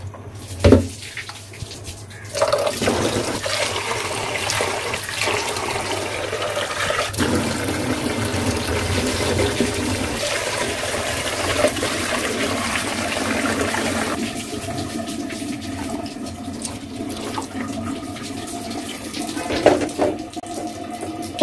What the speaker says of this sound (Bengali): তো এখন ডালটা ধুয়ে বসাই দেব।